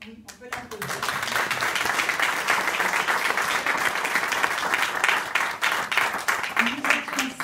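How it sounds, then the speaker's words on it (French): Sustained applause from an audience at a ceremony awarding a medal, dense clapping that fills the room and keeps going, with a voice faintly audible at the start and end. "oui, on peut l'applaudir"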